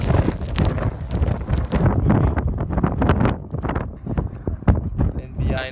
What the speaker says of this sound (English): it's too windy to go closer